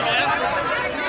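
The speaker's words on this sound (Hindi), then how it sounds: "ये देखिए बहुत ज़्यादा भीड़ है।" Dense crowd chatter fills a busy temple fair at a Lakshmi shrine, a steady wash of many overlapping voices close around with no single voice standing out.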